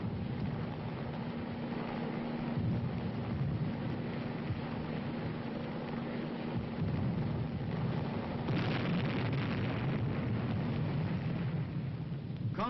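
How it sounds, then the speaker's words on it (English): Combat gunfire and heavy blasts during military river operations, with combat engineers working under fire: dense, continuous rumbling booms and crackling bursts fill the whole stretch, and an old-film hum runs underneath. "as opposition stiffens, they must operate under heavier gunfire"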